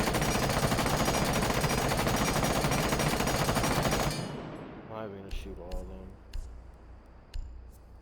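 A light machine gun in Rainbow Six Siege fires a sustained loud automatic burst for about four seconds, then cuts off, leaving fading echoes and a few faint clinks.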